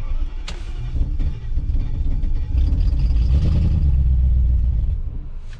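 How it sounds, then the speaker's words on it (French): A BMW 735i V8 E38 running on ethanol, its starter cranking and the engine catching into a loud, steady low rumble close by that carries on for several seconds before easing slightly. "Le démarreur, il se lance tout seul."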